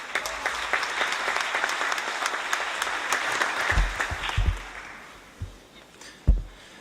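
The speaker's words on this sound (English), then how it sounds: "Please let us welcome Ambassador Hetzi with a round of applause." A conference audience at a United Nations opening session applauding to welcome an ambassador, steady clapping from a sizable room that fades out, leaving a few scattered thumps and claps.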